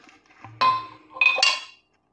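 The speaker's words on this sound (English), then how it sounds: "From there, we add a stir bar." A sanitized stir bar drops into a glass flask during yeast revival, making a couple of bright glassy clinks and a short rattle, close and fairly loud, then silence.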